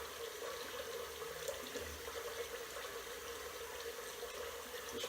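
Tap water runs steadily at a sink while someone washes their face, a constant close hiss with no talking.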